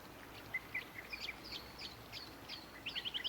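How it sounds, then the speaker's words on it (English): Birds chirp and tweet in short, quick calls inside the video game Botany Manor, fairly faint over a soft airy background, with a brief run of rapid chirps near the end. "There needs to be slightly less bird sound"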